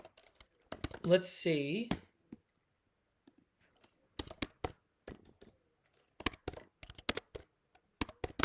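Keys clatter on a computer keyboard in quick bursts of typing, separated by pauses, with someone speaking briefly before the first burst.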